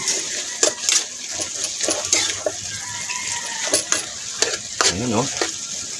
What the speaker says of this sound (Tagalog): Yan, haluin lang natin